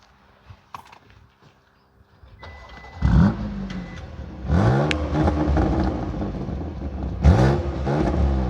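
A BMW M2 Competition fires up after some quiet shuffling, then gives several sharp revs with rising and falling engine sweeps, loud and close.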